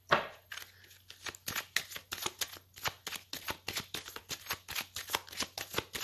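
Tarot cards shuffled by hand at close range, a quick run of crisp riffling flicks and soft slaps in uneven bursts with brief pauses, over a quiet low hum and no talking.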